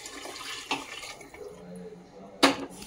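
Hot water splashes from a vessel into a pot for Marathi-style home chicken biryani, in a few brief pours with a sharp burst near the end, while a voice talks softly in the background.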